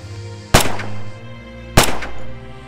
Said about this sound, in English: Free fire at the targets on the range.